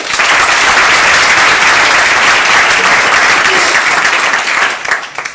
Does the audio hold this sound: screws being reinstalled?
no